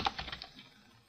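Quick burst of typing on a computer keyboard, several crisp close key clicks ending with an Enter press, then fading to quiet.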